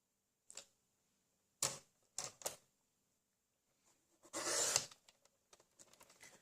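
A centimetre is trimmed off a piece of card for a trifold angle birthday card: a few sharp, close clicks, then a brief swishing cut followed by light taps, quiet and with no voices.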